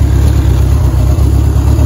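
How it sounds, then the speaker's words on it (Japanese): A Honda CB750K4 motorcycle engine idling at about 1200 rpm, a loud, close, steady low throb with an even pulsing rhythm and no voices. "今アイドリングが1200回転ぐらいです"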